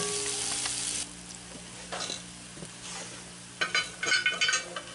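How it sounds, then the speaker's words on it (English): Garlic cloves sizzle in hot oil inside a cast-iron Dutch oven, a steady frying hiss throughout with bursts of scraping and stirring from a utensil toward the end, close and fairly loud. "Then go garlic cloves. Stir them in a little bit."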